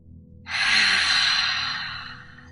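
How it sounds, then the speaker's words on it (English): A single long breath drawn in or let out during a guided meditation, a soft breathy rush that swells quickly, holds, then fades slowly, close and alone. "Nice deep breath in. Exhale."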